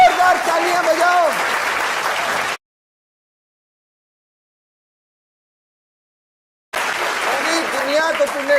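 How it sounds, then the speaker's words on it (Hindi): A studio audience bursts into loud, sustained applause, then falls completely silent for about four seconds before the clapping returns just as strongly, with voices faintly mixed in. "जोरदार तालियां बजाओ"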